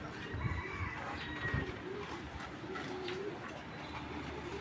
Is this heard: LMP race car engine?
no